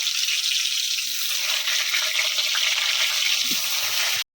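Chicken frying in mustard oil gives off a loud, steady sizzle that hisses evenly throughout, with no voices over it.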